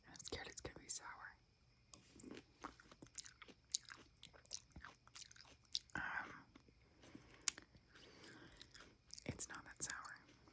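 Soft, close-up chewing of a small clementine in a quiet room, with intermittent wet bites and crunches mixed with whispering throughout.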